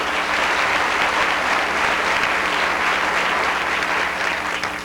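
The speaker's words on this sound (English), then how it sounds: "How about giving them one more round of applause?" Audience applause at the Miss Indiana Pageant 1990, a broad, steady clapping from a large crowd that holds at full strength for about five seconds before easing slightly at the end.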